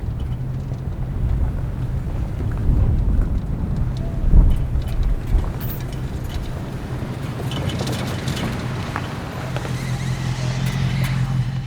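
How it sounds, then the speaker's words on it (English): Wind blows steadily from the south across an open Utah campsite, a constant low rumbling roar that swells in gusts, with no voices. "the wind has decided to come out of the south"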